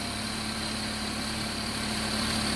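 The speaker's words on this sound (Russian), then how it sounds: "Вон двигатель, видишь, как работает?" A Toyota Prius engine runs roughly just after its clogged EGR system was cleaned, giving a steady droning hum with a constant whine, moderately loud and close, with no talk.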